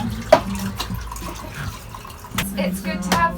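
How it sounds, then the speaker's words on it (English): Water running from a tap on a converted ex-charter sailing boat, splashing intermittently into a sink with a few clunks and knocks, fairly close and brief. "Running water!"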